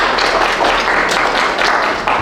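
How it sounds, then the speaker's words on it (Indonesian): An audience claps after a presentation, a steady, fairly loud patter of many hands that holds throughout, with no talking over it. "Oke, berikan tepuk tangan ya."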